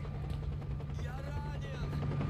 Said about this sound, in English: Is that a helicopter? Yeah, there it goes.